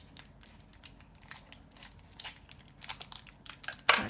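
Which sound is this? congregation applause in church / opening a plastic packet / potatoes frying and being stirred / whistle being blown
opening a plastic packet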